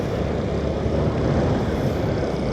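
A Suzuki Access scooter engine drones steadily while riding, a loud, even buzz mixed with rushing wind noise and no talk.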